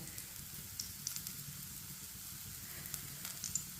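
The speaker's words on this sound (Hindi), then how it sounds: "ऊपर ये पराठा डाल लेंगे। 1 चम्मच ऑयल लगा लेंगे।" A paratha fries in a spoonful of oil on a pan, giving a steady, soft sizzle with scattered tiny pops and crackles. It is close but fairly quiet, with no talking.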